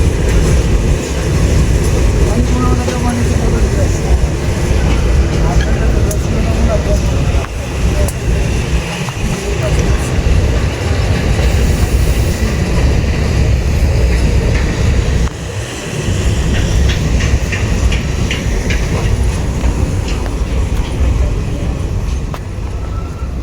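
Sundarban Express train running steadily toward Khulna via Faridpur, Rajbari and Kushtia, a continuous loud rumble of wheels and carriages with brief dips in intensity, recorded from on board.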